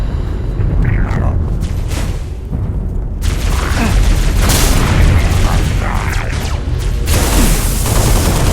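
Gunfire in Halo Reach, heard as loud, dense, repeated bursts of shooting and booming impacts at close range, with game character voices calling out among the shots.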